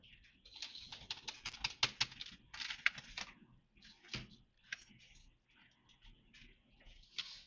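Rapid clattering keystrokes on a computer keyboard in uneven bursts, with short pauses between flurries, close and fairly loud.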